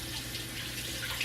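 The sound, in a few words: tap water running over raw chicken breast in sink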